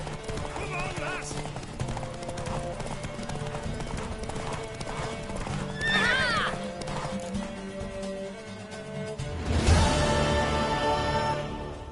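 Rapid hoofbeats of a horse gallop steadily under music and voices in the video game The Witcher 3, with a neigh cutting through and a louder burst of motion near the end.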